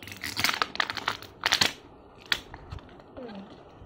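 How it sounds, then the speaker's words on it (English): Paper secret message from a LOL Surprise Lil Sister BB Bop toy being torn open by hand: several close, crisp rips and crinkles in quick bursts, then a few softer rustles trailing off. "I'm going to tear the secret message"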